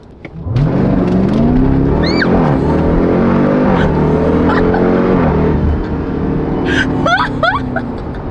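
Jeep Trackhawk launching on a dyno, the engine snapping up into a loud sustained rev that climbs and holds for several seconds, with sharp tire or roller squeals over the roar before it eases off.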